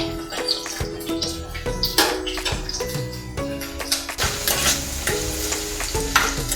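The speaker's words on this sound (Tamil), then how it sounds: "பூண்டு கொஞ்சம் வதங்கிடுச்சு." Garlic sautés in hot oil in a pan for a Tamil garlic kuzhambu, giving a steady crackling sizzle under repeated scraping and stirring strokes of a spoon, close and busy throughout, with no speech.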